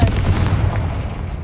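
A short, booming blast from the Confringo fire spell in the video game Hogwarts Legacy, a low rumbling burst that decays quickly over about a second and a half.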